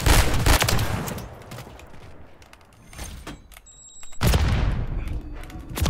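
Semtex grenade blasts in the shooter game Modern Warfare 3: loud, booming bursts at the start and again near the end, with crackling gunfire between them.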